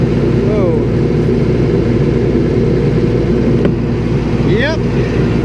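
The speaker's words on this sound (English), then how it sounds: "this tractor is a little bit thirsty when you gotta run it all the time" A tractor engine runs on at a steady, loud idle, a dense continuous rumble with a few brief squeaks over it, near and uninterrupted, with no voice heard.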